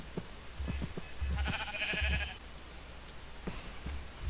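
Minecraft sheep bleat several times in short, nasal calls, with dull thumping footsteps between them and no talk.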